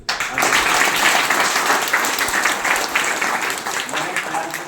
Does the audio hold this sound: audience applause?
yes